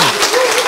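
A short burst of clapping from an audience, loud and close, a brief patter of many hands with a voice over it.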